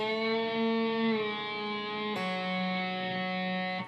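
A slow electric guitar lick from a blues song, with a picked G-string note bent up a half step, then a second attack that rings out sustained, played close and alone.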